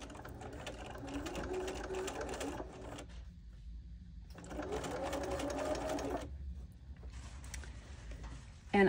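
A sewing machine stitches a quilted pillow with a long stitch length, running in two steady bursts with a brief pause between them, close up and with no talking.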